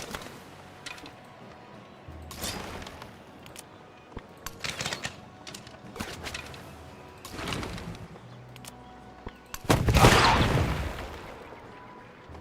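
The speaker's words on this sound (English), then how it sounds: "That's why the Galleon is so much louder because he has the cannons." Galleon cannons firing in Civilization VII, heard as a few sharp percussive bursts over a busy game soundscape, the loudest blast near the end.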